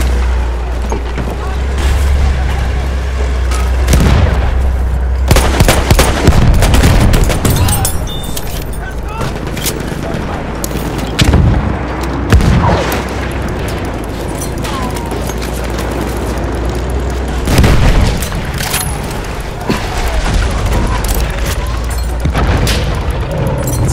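Grenade blasts and bursts of gunfire in a Battlefield video game firefight, heavy booms and rattling shots recurring at irregular intervals over a constant low rumble, with voices calling out among the explosions.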